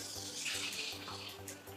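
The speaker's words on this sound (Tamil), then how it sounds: "இப்போ நான் ரெண்டு கப் புளி தண்ணி ஊற்றிருக்கேன்" Tamarind water poured into a clay pot for a garlic curry, a steady splashing pour heard close and alone, with a low electrical hum underneath.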